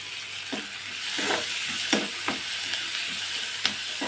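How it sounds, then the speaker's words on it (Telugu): Onions and dried shrimp frying in oil for a taro curry, a steady close sizzle with a hiss of steam, broken by a few light clicks of stirring. "ఇప్పుడు ఉల్లిపాయలు ఎండ్రీలు కలిపి మగ్గించుకుందాం"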